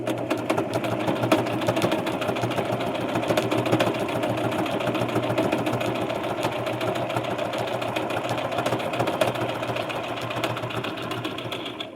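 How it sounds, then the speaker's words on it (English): A sewing machine runs steadily up close, a continuous whirring mechanical drone without pause. "if your sewing machine's making a similar noise, it's probably just your bobbin"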